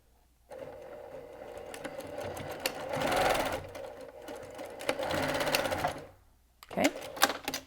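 A sewing machine top stitches elastic on a fabric headband, running in quick bursts with short pauses between them, close and fairly quiet.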